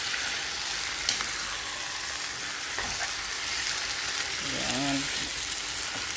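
Squid adobo with potato sizzling and frying steadily in a pan as it is stirred, a constant close hiss with occasional scrapes and a brief voice.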